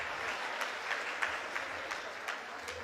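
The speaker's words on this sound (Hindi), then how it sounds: "तालियां बजा दीजिए एक बार" An audience at a humorous talk claps briefly, a soft, steady patter with a few sharper individual claps standing out, heard from a distance against low background noise.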